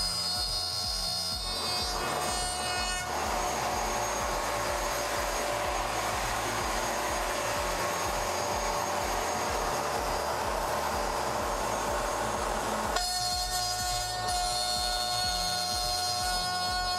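A workshop dust extraction system runs steadily at close range, a continuous loud broadband whoosh with a low rhythmic rumble, changing tone briefly near the start and again toward the end.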